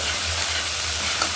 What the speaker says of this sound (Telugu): 1 స్పూన్ అల్లం వెల్లుల్లి పేస్ట్ వేసాను. ఇది మంచిగా పచ్చివాసన పోయే వరకు